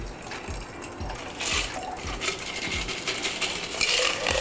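A cocktail is strained into a glass, liquid pouring and splashing steadily while metal and ice clink in irregular, close, fairly loud taps.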